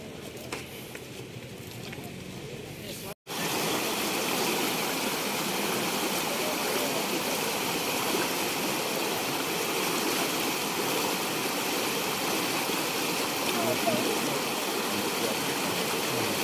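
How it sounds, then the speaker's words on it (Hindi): Floodwater rushes continuously in a loud, steady roar during the Pakistan floods, after a quieter opening and a brief dropout. "इसी तरह पानी बह रहा है।"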